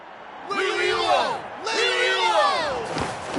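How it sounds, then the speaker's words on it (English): A video game crowd in Genshin Impact cheers and whoops loudly in two rising waves of excited shouting, then the cheering tapers off. "Hear that? The exhilarating cheers of the crowd."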